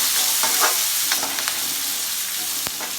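Chopped onion and ginger fry in a pan for a vegetable white gravy, a steady close sizzle broken by scraping stir strokes and a few sharp crackles.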